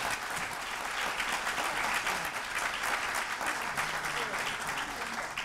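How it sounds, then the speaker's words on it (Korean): An audience at a Korean venture business award ceremony gives steady, dense applause, loud and continuous throughout with no voices standing out. "박수 부탁드립니다"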